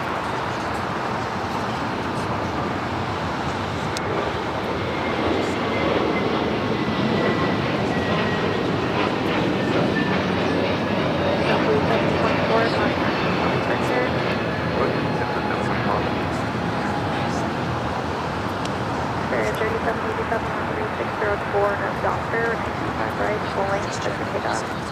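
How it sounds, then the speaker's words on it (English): A JetBlue Airways airplane takes off at LAX with a loud, steady jet engine roar that holds for the whole stretch, close and unbroken. "That takeoff was JetBlue Airways Flight"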